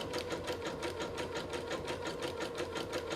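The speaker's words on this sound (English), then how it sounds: "I've done the zigzag stitch all the way around there and around the handle." A sewing machine runs a zigzag stitch along a fabric edge while making a Christmas cup craft, giving a fast, even, unbroken mechanical chatter at close range.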